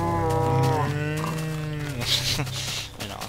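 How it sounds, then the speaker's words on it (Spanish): A cow moos loudly in a Minecraft-style survival video game, one long, drawn-out, tonal low, followed by quieter game sounds. "una vaca por ahí."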